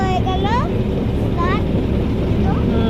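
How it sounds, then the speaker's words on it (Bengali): A passenger launch departs with its engine running, a steady low rumble filling the background while voices speak over it and faint whistle-like tones rise now and then. "লঞ্চ ছেড়ে দিয়েছে ছেড়ে দিল তো"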